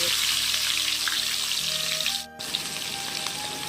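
Capsicum fried in hot oil in a pan, a dense steady hiss that briefly dips and then resumes, close and uninterrupted by talk.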